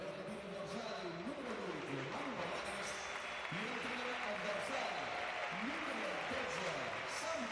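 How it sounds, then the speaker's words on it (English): Mallorca supporters applaud at their home ground during a Mallorca versus Villarreal league match, a steady broadband wash of clapping and crowd noise running throughout under continuous commentary. "met with applause from the Mallorca fans"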